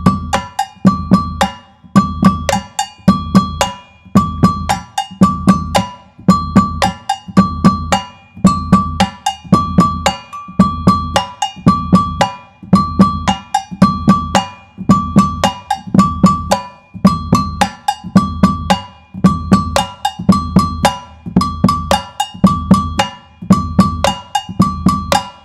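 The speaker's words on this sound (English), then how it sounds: "So that means surdos, tambourines and bells all playing their patterns in time together." A samba ensemble of surdo drums, tambourines and bells plays interlocking patterns in time, with deep drum thumps under bright metallic bell strikes in a steady, loud, repeating groove and no talking.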